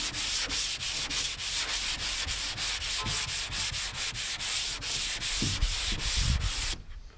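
Sandpaper rubbing by hand over guide coat on the bodywork of a 1978 El Camino SS, a steady rhythm of close, loud scraping strokes running nearly continuously before stopping abruptly near the end.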